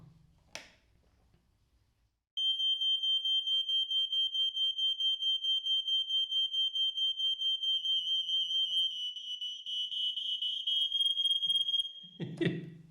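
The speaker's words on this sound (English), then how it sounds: "make sure when the alarm sounds, the other alarms sound too" Interlinked AICO smoke alarms sound on test, a loud, piercing, rapidly pulsing electronic beep that runs continuously for about ten seconds, with a second alarm joining in, then stops.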